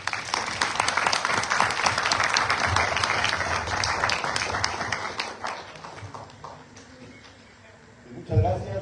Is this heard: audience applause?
yes